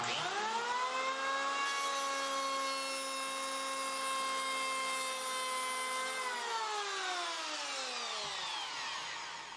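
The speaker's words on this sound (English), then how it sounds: "So just get your plate firmly on the uncut material and restart the planer." High-pitched whine of an electric power planer running at speed on wood, steady and close, then pitch sliding down as the motor winds down near the end, with no talk.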